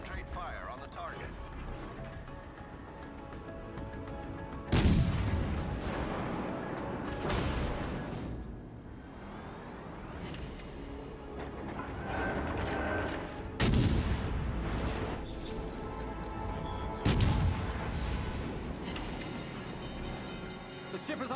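Naval artillery from a warship in a video game fires in repeated heavy booms, three big blasts standing out over a rumbling battle din, with radio-style voices talking through it.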